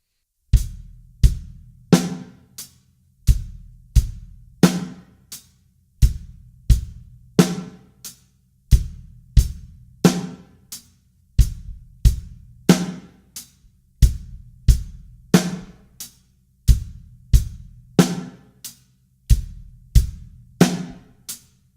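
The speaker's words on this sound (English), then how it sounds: "we're going to throw in the hi-hat, the snare, and the kick drum all together at the same time" A basic pop-rock drum beat played on a kit, with hi-hat, snare and kick drum hitting together in a steady, even pattern, loud and close with no voices.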